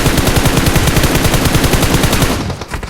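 Loud, rapid automatic gunfire in the video game PUBG, a dense continuous burst of shots that cuts off near the end.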